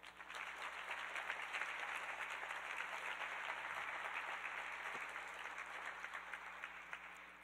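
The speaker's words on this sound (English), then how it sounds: "let's give them all a round of applause" Round of applause from an event audience at a cancer research fundraising gathering, a continuous even wash of clapping in a room, moderately distant and soft, fading slightly at the end.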